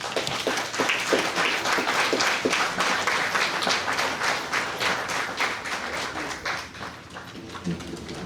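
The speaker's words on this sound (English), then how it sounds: "she deserves a round of applause" Staff at a DEHS gathering give the new director a round of applause: distinct individual claps stand out early within a lively crowd ovation that gradually thins and softens toward the end.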